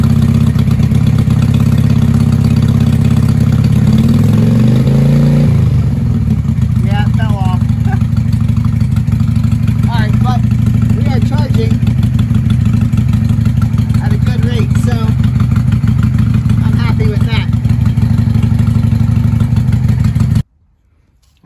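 A 1995 Honda Shadow 600 VLX VT600CD with leaks and loosely fitted parts idles with a loud, steady low rumble, rises in a short rev early on, then settles back to idle until it cuts off abruptly.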